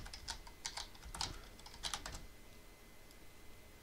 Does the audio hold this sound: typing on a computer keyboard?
yes